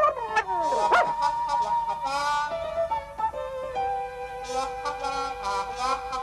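A cartoon puppy in The Smurfs yips, whimpers and barks in quick, high-pitched bursts, close by, with a few longer howling notes between the barks.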